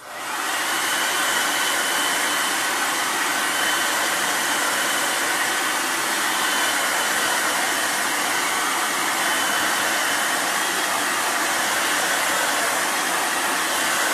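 A hair dryer blows steadily at close range, drying a stencil pressed onto wall putty, a loud continuous broadband whoosh with no break and no talk.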